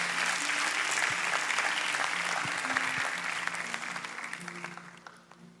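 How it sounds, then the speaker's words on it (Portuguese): A church congregation at a youth service applauds in a dense, steady wash of many hands that gradually dies away. A faint sustained musical tone sounds underneath the clapping. "Vamos aplaudir Jesus por isso."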